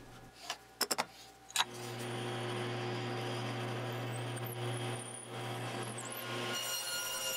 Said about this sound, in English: measured out where the hole for the pivot pin is to be drilled